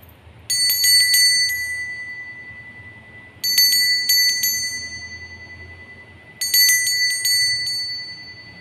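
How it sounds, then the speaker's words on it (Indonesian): A bright bell rings in three separate bursts of rapid rings, each ringing out and fading, with short quiet gaps between. "kita akan memulai dengan ditandai lonceng berbunyi"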